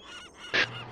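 Birds swarming around the player in the military game ArmA, with a single short honking call rising briefly above a soft, murmuring background.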